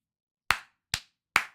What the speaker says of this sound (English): That's a pity clap right there.